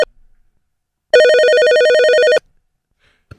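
A telephone rings once in a loud, trilling electronic burst lasting over a second, surrounded by near silence.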